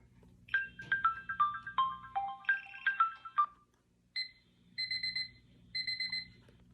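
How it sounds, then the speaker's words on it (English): Cuckoo clock alarm tone from an ANNNGUL alarm clock radio: a quick run of bright electronic chime notes, then a pause and three repeated two-note cuckoo calls, clear and close. "Cuckoo clock."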